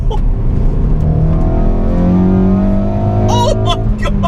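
A modified Ford Focus MK3 ST3 in sport mode pulls hard through the gears, its engine drone and exhaust rising steadily and loud from inside the cabin, with the rev building into boost throughout.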